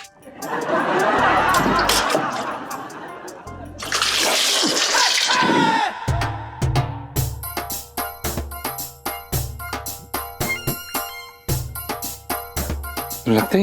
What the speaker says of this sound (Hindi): गरम पानी डाल लें।